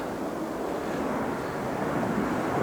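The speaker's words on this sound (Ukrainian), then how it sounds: "Пішов літак на посадку." Airplane passing overhead on approach to land at Helsinki, heard from open rocky ground: a continuous, even engine roar at moderate loudness, with light wind buffeting and no voices.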